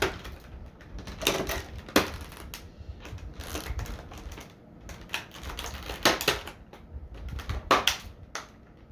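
Scissors cut an action figure free from plastic blister packaging. Near, irregular snips crackle through the stiff plastic, with sharp louder crunches at intervals over a steady run of rustling.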